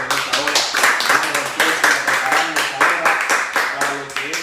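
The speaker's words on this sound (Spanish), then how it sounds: "Un aplauso al Señor en esta hora." Rhythmic clapping in a quick, steady beat at a church service, loud and close, with voices singing or calling out over it.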